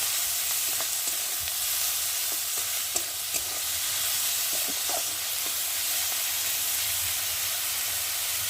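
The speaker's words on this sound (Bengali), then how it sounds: "চিংড়ি মাছগুলো ভাজা ভাজা হয়ে গেছে" Small shrimp fry in oil in a pan with a dense, continuous sizzle and hiss that stays close and steady throughout, joined by a few faint stirring clicks and no talk.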